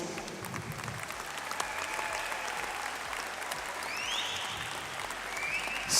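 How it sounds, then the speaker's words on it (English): Steady, sustained applause from a crowd at a county swimming championship gala, filling an echoing pool hall with dense clapping that holds even throughout, thanking the officials. "please can we take a moment to give a huge round of applause to all the officials"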